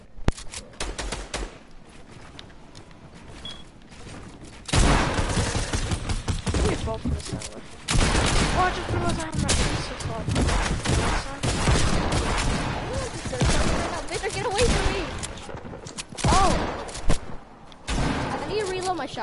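Rapid bursts of shotgun fire in a multiplayer video game, loud repeated blasts in clusters across the stretch, with a player's voice talking over them.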